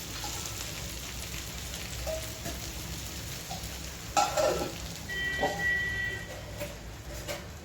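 Thalipeeth, a mixed-flour flatbread, fries in oil with a soft, continuous crackling sizzle, a few brief pops rising partway through.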